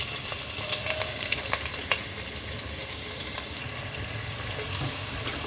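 Chopped onion fries with cumin in a pan for a cabbage sabzi. A continuous close sizzle hisses throughout, with a few light taps and stirring scrapes near the start and no voices.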